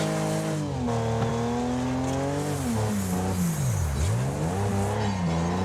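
Racing car engines in the Wreckfest video game howl and rev continuously, pitch sweeping down and back up through corners with a brief tire squeal, loud and steady without any talk.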